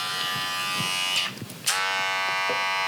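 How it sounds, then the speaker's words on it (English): An older-style electric hair clipper buzzes steadily and loudly with a harsh, rattly motor hum, briefly dipping mid-way before resuming its constant drone. "Like you can tell it's like an older style clipper."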